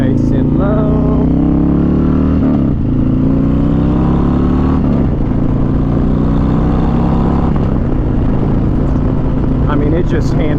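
Loud engine rumble from a 2022 Harley-Davidson Street Glide ST on the move, with deep throbbing and rising pitch as it accelerates through a low corner, wind noise throughout and a rider talking over it.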